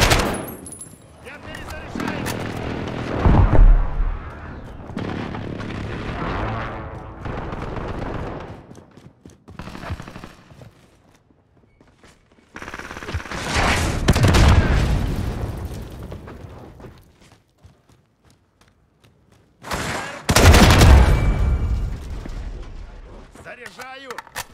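Airstrike explosions and gunfire in Call of Duty: Modern Warfare multiplayer come as three loud bursts of blasts and rumble, separated by quieter gaps, with in-game voices heard between them.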